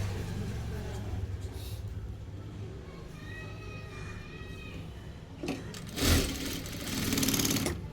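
Sewing machine stitching tucks on a blouse, a steady mechanical whirr running for several seconds at moderate loudness, with a louder burst of activity toward the end.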